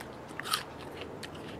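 A single crisp bite into a crunchy home-grown apple, followed by a few faint crackling chews, close up and quiet with no talking.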